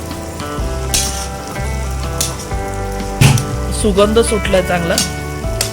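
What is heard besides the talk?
gram flour (besan) roasting in oil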